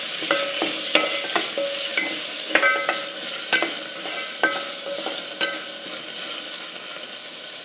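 Onions frying in a pan for jeera rice, a steady sizzle with repeated scraping stirs of a spatula every half second or so, close and fairly loud, no voices.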